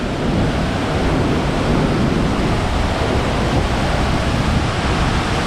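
Rushing water and strong wind at a spot near Thurso and Durness in the Scottish Highlands; a loud, constant roar with wind buffeting the microphone, steady throughout and without voices.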